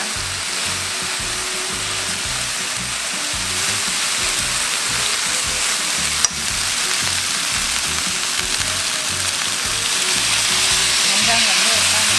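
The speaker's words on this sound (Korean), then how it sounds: "노릇해질 때까지 볶아줍니다." Pork bulgogi stir-frying in a pan, a steady loud sizzle with faint scraping as the meat is stirred, continuous throughout with no talking.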